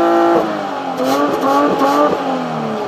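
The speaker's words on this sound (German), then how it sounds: "wir gehen mal raus und hören uns den Sound des Klappenauspuffes mal von außen aus nächster Nähe an." A Porsche Macan with a V6 petrol engine and flap exhaust revs close by outdoors, rising and falling in a few quick throttle blips with a rough, burbling tone, loud and alone.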